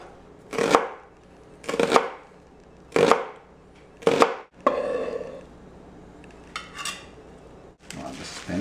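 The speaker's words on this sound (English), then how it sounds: "And we'll cut up the red onion." A knife chops a red onion on a board in four sharp, evenly spaced thuds, close and loud, followed by quieter scraping and handling sounds.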